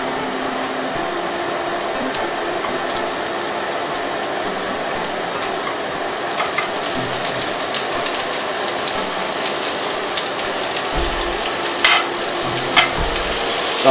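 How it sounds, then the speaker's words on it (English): Ingredients sautéing in sesame oil in a pan for spring rolls, a steady close sizzle with occasional stirring scrapes that grow a little busier toward the end. "go ahead and saute your ingredients with a little sesame oil"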